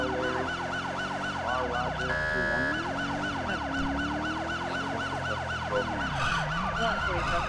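An Omega 90 Unitrol police siren from GTA 5 cycles continuously through rapid, loud, close wail and yelp tones over a low vehicle hum.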